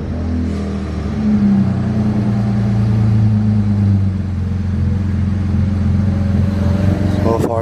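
A BMW 335i with the N54 engine, check-engine codes just erased, fires up and settles into a steady running idle with strong low harmonic drone, a brief rise near the start and a sharper noise at the end.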